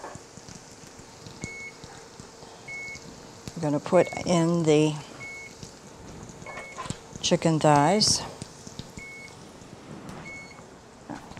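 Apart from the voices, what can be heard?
beeping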